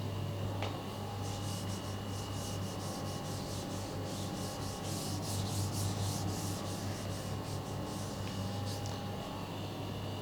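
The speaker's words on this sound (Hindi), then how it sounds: "एक बार इसको रब कर लेते हैं मेरे हिसाब से।" Steady rubbing of a duster wiping writing off a classroom board, a continuous scrubbing texture with a faint rhythmic pulse, heard close over a constant low hum with no talking.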